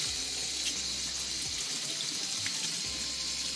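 Cold tap water runs steadily over eggplant pieces in a kitchen sink, a constant close splashing gush that lasts throughout with no talking.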